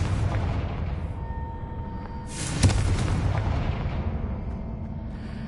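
A fiery Confringo spell blast in Hogwarts Legacy: a rumbling low backdrop breaks into a sharp, loud explosive burst midway, followed by a long booming decay.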